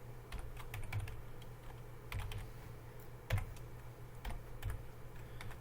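Keys on a computer keyboard are tapped in short irregular bursts while a password is entered, soft close clicks with a few sharper strokes over a low steady background hum, no voices.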